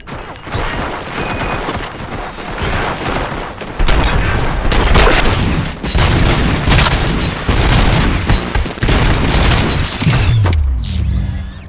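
Sustained gunfire and heavy booms from the video game RoboCop: Rogue City, with dense bursts of shots and explosions filling the whole stretch, loud and continuous, swelling harder about midway and ending on a deep rumbling blast.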